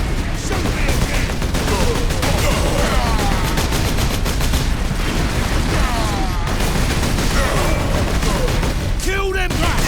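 Dense, loud gunfire rattles almost without pause in the Space Marine video game, automatic bursts overlapping with booming grenade explosions and shouted voices throughout.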